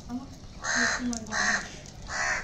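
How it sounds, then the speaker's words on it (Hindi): A crow caws three times in slow succession, harsh and fairly close, with a faint low voice briefly in the background. "कौवा भी आ गया है।"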